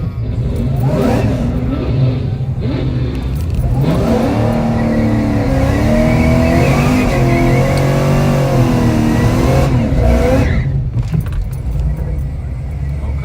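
A manual-shift street car at Yello Belly Dragstrip, traction control off, doing a light burnout: a loud, close engine revs hard and holds high in one sustained roar, its pitch rising and wavering, with no talk.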